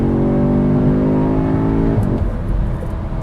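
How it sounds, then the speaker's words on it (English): A 2022 Audi S3 pulls out and accelerates hard to pass, its engine note climbing in a rising drone, then dropping at about two seconds with a brief shift break before it continues on a lower tone. "if I just, pull out to pass and put my foot down"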